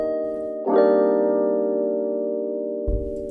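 A synth melody chord in FL Studio, resampled down to an 8000 Hz sample rate, sustains as a steady harmonic tone with a sharp onset, then gives way to a low thump near the end; no voices.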